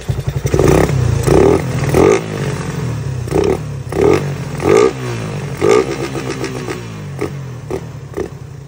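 A motorcycle engine that has sat unused for a long time warms up, loud and close, with repeated rhythmic revs and clattering mechanical rattles between bursts, no talk over it.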